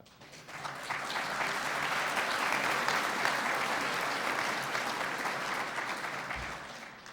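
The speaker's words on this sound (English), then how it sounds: "I was hoping there'd be some applause." A conference audience at a security convention applauds steadily, a sustained wash of clapping that builds quickly, holds for several seconds, then tapers slightly, with no talking over it.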